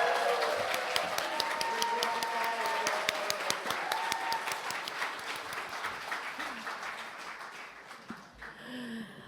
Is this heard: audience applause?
yes